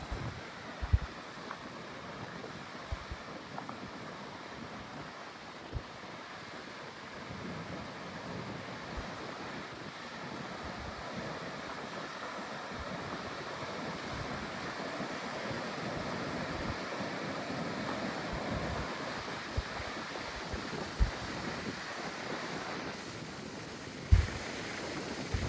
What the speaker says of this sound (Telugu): అలలు సౌండ్ గాలి సౌండ్ వినండి.